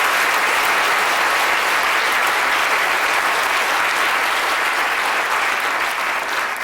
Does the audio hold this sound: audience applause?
yes